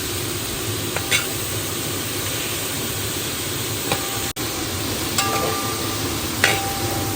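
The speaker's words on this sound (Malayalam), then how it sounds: "നന്നായിട്ട് മിക്സ് ചെയ്യാം." Steady close scraping and swishing of a fruit drink mixture being stirred for grape juice or pineapple squash, continuous throughout with a few faint clinks, no talking.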